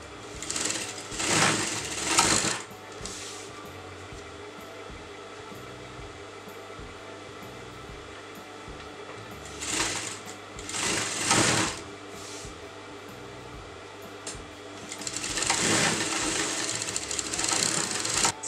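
A sewing machine stitches satin and organza fabric in loud, steady whirring bursts, running for about two seconds, pausing, running again, then starting a longer run near the end, with a quiet hum between.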